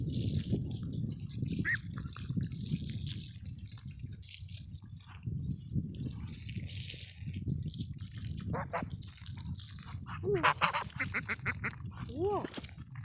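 Buff geese and ducks call around water during a bird bath, with scattered honks and quacks rising near the end over dripping water and faint background voices.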